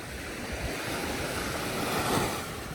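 Sea waves wash steadily onto a beach on Koh Lanta, Thailand, a continuous broadband surf roar with some wind noise over the microphone and no voices.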